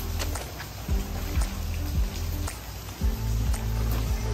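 Rain falling around a seaside restaurant in Langkawi, a soft steady patter with irregular drips and low rumbling thumps from nearby activity, no speech.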